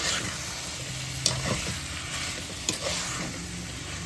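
Spicy country chicken curry simmers with turmeric while it is stirred, giving a continuous bubbling sizzle with a couple of soft scraping knocks from the spoon.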